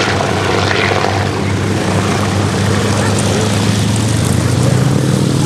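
A propeller aeroplane flying cross-controlled at an airshow, a loud, continuous engine and propeller drone that holds steady throughout and swells slightly toward the end.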